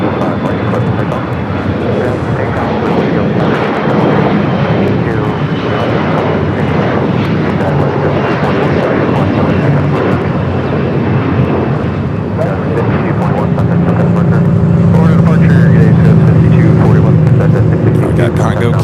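Heavy airliner taking off at LAX, heard as a broad, continuous roar of jet engines that swells toward the end, with a voice talking over it throughout.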